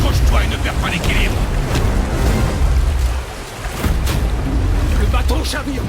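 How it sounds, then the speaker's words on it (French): A boat capsizes in God of War, with loud, continuous rushing water and heavy low rumbling, sharp crashes and splashes breaking through the churn. Brief voices surface within the din. "Le bateau chavire"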